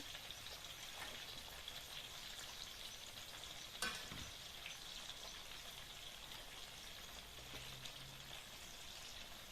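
Steady sizzling of tomatoes frying in a pan with small pieces of butter, a soft crackling hiss throughout with one brief clink partway; quiet and unaccompanied by speech.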